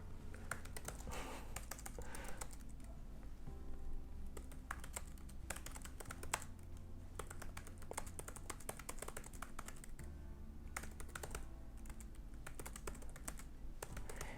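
Typing The Great Gatsby on a computer keyboard produces a continuous, close stream of brisk key clicks and taps that runs steadily for the whole stretch, with no voices.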